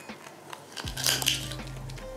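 A rabbit gnawing on a chew treat, heard up close as brief crunching and scraping bites over a quiet room background.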